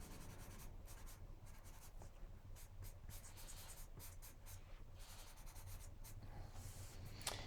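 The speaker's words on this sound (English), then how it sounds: "Now, I'm using this pastel pencil" A pastel pencil scratches over paper in quick repeated strokes, a dry close rasping that comes in short bursts with brief pauses.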